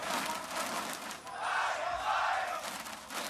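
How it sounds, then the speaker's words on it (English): An esports arena crowd at the LoL MSI 2017 Play-In cheers and roars in swelling waves, loud and sustained throughout. "The crowd loves it."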